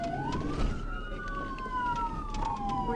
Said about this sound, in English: As the troopers turned on their lights and sirens